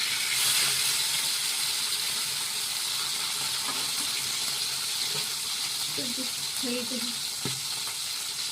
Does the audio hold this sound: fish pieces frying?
yes